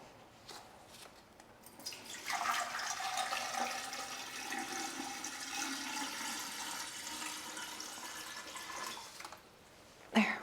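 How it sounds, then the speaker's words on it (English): Tap water running into a container for plant cuttings, a steady hissing pour that starts after a couple of seconds, holds evenly for several seconds, then cuts off with a brief clunk near the end. "fill this with water."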